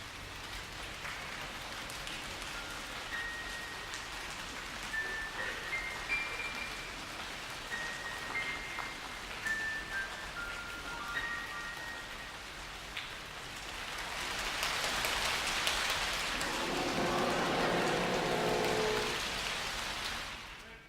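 Soft, continuous patter like light rain, performed by an orchestra imitating rain, fills the clip, with scattered faint tones early on and a fuller rushing swell toward the end.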